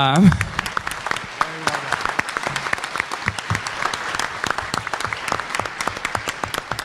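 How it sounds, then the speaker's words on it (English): The audience at a 2012 "Does God exist?" debate applauds the moderator, a sustained spread of many hands clapping at moderate volume, with a brief voice at the very start. "one person that hasn't gotten a round of applause is Steve, our moderator"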